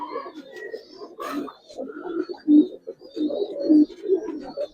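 Giribaz and coloured pigeons coo repeatedly at close range, overlapping throaty rolling calls with a short flutter early on.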